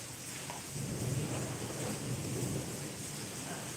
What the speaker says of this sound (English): Oh, that's totally hail.